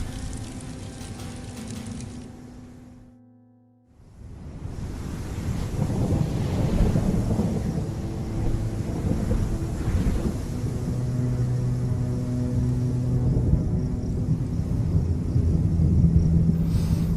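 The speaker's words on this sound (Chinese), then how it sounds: "打雷了吗？" Thunder in an animated cartoon: after a brief hush, a deep rumbling roar swells and rolls on continuously, loud and heavy, with no voices over it.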